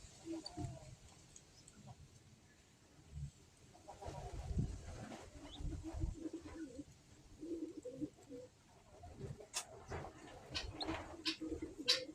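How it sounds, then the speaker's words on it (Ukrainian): Pigeons in a dovecote coo softly with light fluttery rustling that comes and goes, fairly faint, with occasional quiet voices and scattered small sounds around them. "Чую, голуби роблять мерву."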